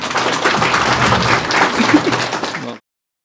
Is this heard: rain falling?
no